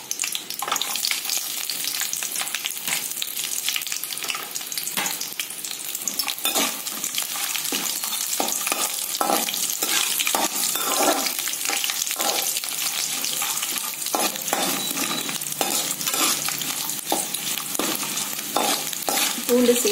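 Dry red chilies and garlic fry in hot oil in a pan, with a steady, close sizzle and repeated scraping stirs running throughout and no voices.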